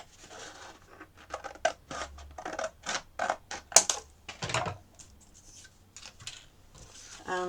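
Scissors cut a flap off a piece of card for a Christmas poinsettia gift box, making a series of crisp close snips with short pauses between them.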